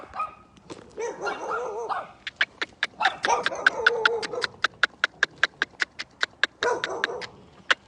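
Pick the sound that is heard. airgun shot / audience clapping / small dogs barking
small dogs barking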